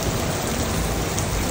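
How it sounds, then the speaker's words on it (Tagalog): Rain pours steadily onto a street in Singapore's Chinatown, a dense, even hiss close by with no voices. "Inabutan ako ng ulan, hindi ako makatawid doon sa kabila."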